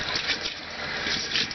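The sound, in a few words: running water from bathroom sink tap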